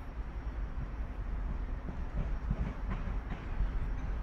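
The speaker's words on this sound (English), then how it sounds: "this southern surface to London Bridge, Southern Railway, Class 377" A Southern Railway Class 377 electric train bound for London Bridge rolls into Redhill station with a steady low rumble and faint rhythmic wheel clicks over the rails, heard alone at close range.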